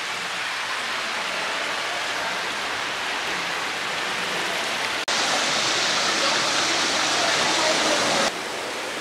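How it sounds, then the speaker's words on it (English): An indoor water fountain in a shopping mall splashes in a steady, loud rush of falling water, continuous throughout with a brief jump in level midway. "there's a water fountain."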